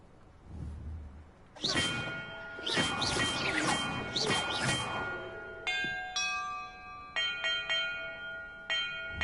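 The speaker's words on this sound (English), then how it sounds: "Perhaps the map contains clues about the order I'm supposed to ring the bells in." Several bells rung in the Hogwarts Legacy video game, bright metallic clangs with long ringing tones, struck one after another in an uneven sequence over a busy, whooshing game background.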